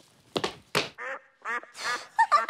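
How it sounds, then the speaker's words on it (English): Quacking comes from a big yellow boot in a children's show: a run of loud, nasal duck quacks, several in a row, close and clear with no talk over them. "Is there a duck in the big yellow boot?"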